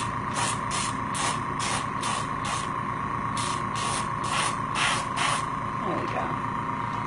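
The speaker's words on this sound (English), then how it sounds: "That's really all I need the airbrush for right now." An airbrush sprays light blue onto a sugar mask in a series of short, even hissing bursts over a constant electrical hum, with a brief pause midway before the spraying resumes.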